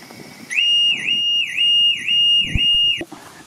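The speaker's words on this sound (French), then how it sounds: "L'alarme fonctionne bien." The alarm on a Citroën C4 wails in a loud, close, repeating two-tone sweep for about two and a half seconds. It cuts off abruptly, with a few clunks in the middle of it.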